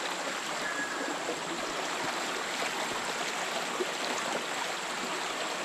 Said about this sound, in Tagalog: Kaya napakalinis ng tubig ngayon.